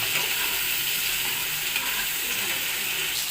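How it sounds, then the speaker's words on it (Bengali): Shrimp frying in oil in a wok, a steady, bright sizzle that crackles continuously and evenly throughout, close and alone with no voices. "চিংড়ি মাছটা আগে একটু ভেজে নিই বেশি ভাজবো না"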